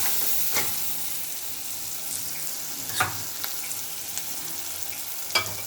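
Chili powder fries in oil for a taro tamarind curry, a steady close sizzle broken by a few sharp scraping stirs of a spoon in the pan, with no talking.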